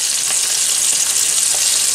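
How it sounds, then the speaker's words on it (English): Gray snapper steaks dredged in flour fry in a pan with a steady, close, bright sizzle and crackle that holds at an even level throughout, with no voices. "Simply fried gray snapper steak."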